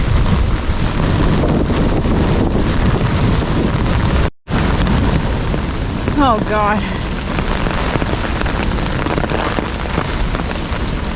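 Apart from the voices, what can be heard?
thunderstorm with heavy rain on hiking trail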